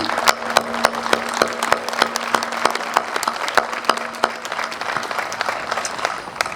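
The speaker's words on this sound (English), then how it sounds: "let's give them one big round of applause" An indoor audience at a veterans' center ribbon-cutting ceremony gives sustained applause, a dense run of many hands clapping together at steady strength for several seconds.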